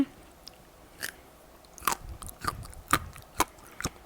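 Chocolate-coated mammoth bread from a bakery being chewed up close, with a run of sharp bites and crunchy chewing sounds spaced about half a second apart, growing louder toward the end, with no talking.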